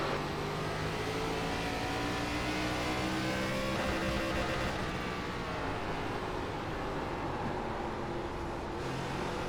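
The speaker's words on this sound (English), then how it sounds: "Hitting that rev limiter quite a bit." Race car engine in iRacing, an ARCA Menards Series car on the USA International Speedway oval, roaring steadily and bouncing against the rev limiter in a loud, continuous drone for the whole stretch.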